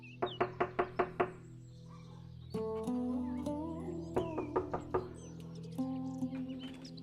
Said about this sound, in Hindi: तभी दरवाजे पर जोर जोर से धम-धम होती है